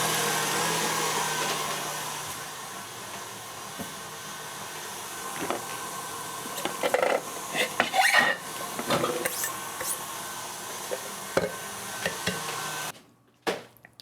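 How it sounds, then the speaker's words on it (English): An electric stand mixer whirs steadily as it mixes salted milk chocolate frosting, a continuous motor hum with scattered clinks and rattles before it cuts off near the end. "I'm just gonna put this on my mixer over there."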